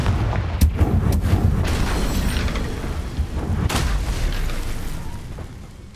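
Confringo blasting spell from Hogwarts Legacy, going off as a string of booming, crackling blasts over a steady rumbling bed, with a sharp burst near the start and another strong hit later.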